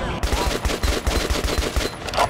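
Rapid bursts of gunfire in the video game Metro Last Light Redux, a steady string of loud shots crackling over a dense, reverberant background, with a faint voice underneath.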